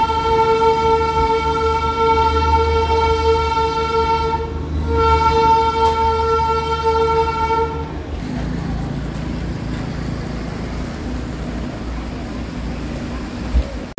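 Darjeeling toy train on a ride near Ghum, with a long sustained horn blast that breaks off briefly and resumes, then the steady rumble and clatter of the moving train, loud and close.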